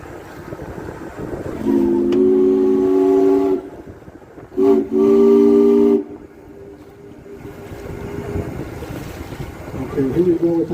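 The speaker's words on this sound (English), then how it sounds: "Here we go with our whistle." Steam whistle of a Lake George tour boat sounds two loud, long, steady blasts close by, the second after a brief gap, with low engine rumble and faint voices around it.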